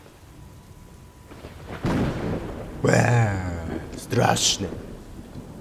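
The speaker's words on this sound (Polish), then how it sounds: "Odgłosy burzy." A thunderstorm with rain in the Slender: Mansion video game: a steady rain hiss runs underneath as rolling thunder booms arrive several times, while someone talks over it.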